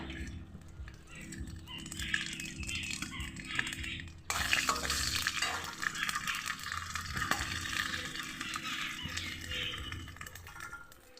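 Dried red chili, a bay leaf and whole cumin, with cinnamon, clove and cardamom, fry in hot oil in a pan for a fish curry. A steady close sizzle grows louder partway through, with scraping stirs against the pan.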